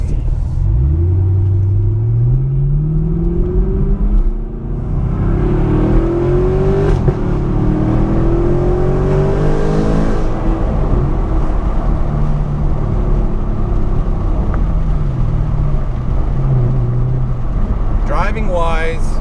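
A Chevrolet Camaro SS with a Roto-Fab cold air intake is driven with the windows down. Its engine rumbles and revs in rising sweeps beneath ongoing talk, with wind and road noise throughout.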